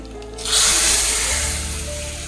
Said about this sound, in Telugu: ఇంకోటండి, పోపు వేగిపోయింది.